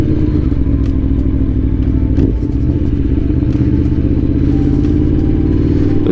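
A 2021 Aprilia Tuono V4 Factory motorcycle in third gear, its engine giving a loud, close, rough pulsing drone with a rapid stuttering judder and a brief dip partway through.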